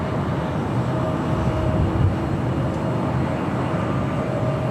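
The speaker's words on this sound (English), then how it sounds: "Got that 777 next out for takeoff" A heavy Boeing 777 jet airliner powers up for takeoff at LAX, a loud, steady broadband roar filling the whole stretch with no talk.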